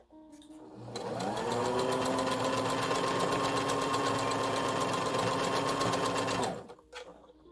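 Sewing machine running steadily for about five and a half seconds, stitching the end of elastic on a fabric bandana, with a rapid mechanical whir that starts and stops cleanly, close and loud.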